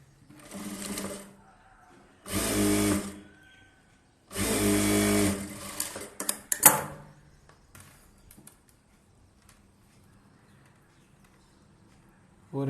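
A sewing machine stitches a folded blouse hem in three bursts of rapid, close mechanical rattling separated by pauses, followed by softer handling clicks and light rustling.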